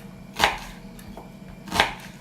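A hand-pressed vegetable chopper crunches through cooked vegetables for a vinaigrette beet salad; two distinct, close chopping presses land about a second and a half apart over quiet room tone.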